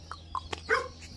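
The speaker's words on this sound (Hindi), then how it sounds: "इधर को कुत्ते आ गए हैं" Dogs bark outdoors in cool, drizzly weather, giving a few short, sharp, mid-distance yips and barks over a steady low hum.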